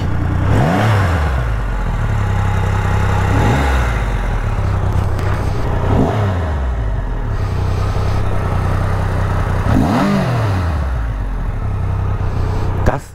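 A Triumph Rocket 3 motorcycle engine rumbles deep and loud close by, its bass-heavy idle swelling into a throttle blip every few seconds, the revs rising and falling again and again.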